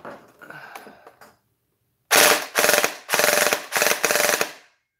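Foam dart blaster fired in five rapid bursts through a chronograph, each a loud burst of mechanical clatter, following softer handling clicks and a brief silence.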